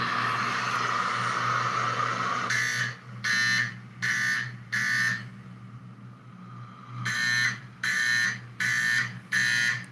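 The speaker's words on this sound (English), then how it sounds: "That's how a 4050 should sound." A 4050 fire alarm horn sounds two sets of four loud, harsh buzzing pulses with a pause between, over a constant background hum and rushing noise.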